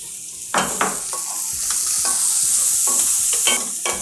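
Steady sizzling of onions frying in a pan with turmeric and curry leaves, with intermittent scraping and stirring strokes from a utensil, close and continuous.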